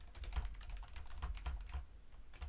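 Computer keyboard sitting in a loose spot on a desk clatters continuously with rapid, uneven typing clicks and low knocking clanks, faint and close-miked, with no voices.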